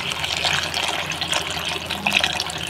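Water pours steadily into a cooking pot with meat for yakhni pulao, a continuous splashing, gurgling flow close by with no voices.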